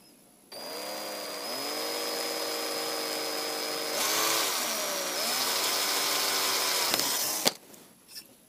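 A 1.5 mm drill bit bores through a 2 mm aluminium plate, a steady motor whine holding for about seven seconds and rising in pitch midway as the bit cuts, ending with a sharp click as it breaks through.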